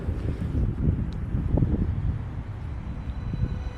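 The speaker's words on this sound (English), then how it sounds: "it's pretty cold and windy up here" Wind buffets the microphone on a cold mountain summit, a steady low roar with gusty swells throughout and no voices.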